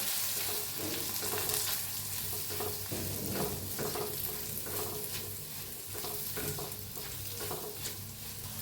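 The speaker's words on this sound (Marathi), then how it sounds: "एक मिनिट मिनिटभर हलवून घेऊया" Coriander and cumin powder roast in a pan for a green chilli pickle, a soft, even sizzle with repeated scraping strokes of a spoon stirring the spices.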